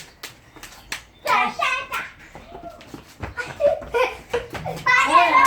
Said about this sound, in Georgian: ტაში შემოკარი.